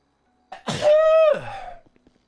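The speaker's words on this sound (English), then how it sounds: "I gotta sneeze." A single loud sneeze, close up, with a sharp intake and a voiced burst that trails off into quiet.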